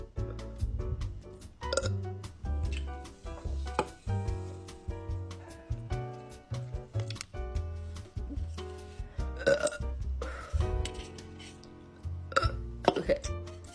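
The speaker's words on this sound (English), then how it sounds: "watch me drink this poppy and burp" After she drinks soda, a woman lets out a series of loud, long, close burps, some deep and drawn out, mixed with short gulping and hiccup-like sounds.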